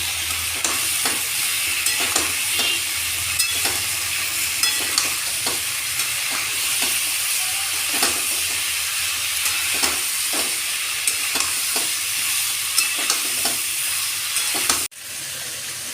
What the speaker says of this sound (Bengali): মশলা বাটাটা দিয়ে ভালো করে কষিয়ে নেব।